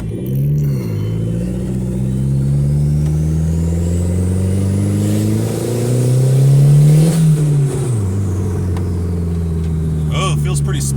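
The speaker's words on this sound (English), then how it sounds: "All kinds of nice turbo noises." The turbocharged engine of an eBay EM2 car builds boost at 7.5 psi, a rising engine roar with a thin climbing turbo whistle that peaks and falls away, heard from inside with people talking.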